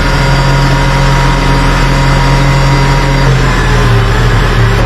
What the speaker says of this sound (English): The engine's also on high idle.